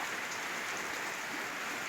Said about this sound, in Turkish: Şimdi öğleden sonra tekrar yağıyor. Çok güzel yağmur yağıyor.